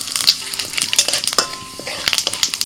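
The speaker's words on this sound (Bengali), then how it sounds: "আবারও কড়াই তেল দিয়ে ফোড়ন দিচ্ছি তেজপাতা" Bay leaf and whole cumin seeds tempering in hot oil in a kadai, a loud close crackle of rapid pops and spits over a continuous sizzle.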